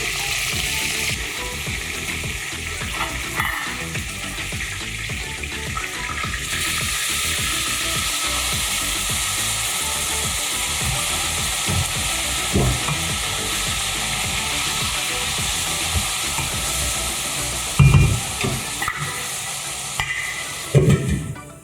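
Beef sizzles steadily in a hot pan, with the scrape and clatter of a utensil stirring it and a few louder knocks near the end.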